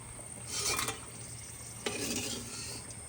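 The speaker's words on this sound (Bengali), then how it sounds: "তেল গরম হয়েছে শুকনো লঙ্কা দিয়ে দিই" Dried chillies fry in hot oil, giving a faint, steady sizzle with a couple of soft stirring scrapes against the pan.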